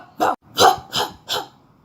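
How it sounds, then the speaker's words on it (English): A dog barks four times right at a sleeping man's ear, sharp and loud at close range, with brief gaps between each bark. "Into his ear, he started barking."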